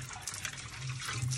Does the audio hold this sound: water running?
yes